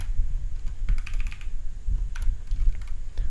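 Close-up computer keyboard typing while entering data in Google Sheets: irregular bursts of soft key taps and clicks, steady and unhurried, with no voices.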